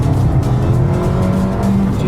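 An Abarth 595 70th Anniversary hatchback with a stage 1 tune accelerates hard. A loud, close, continuous engine roar sustains throughout with no one talking.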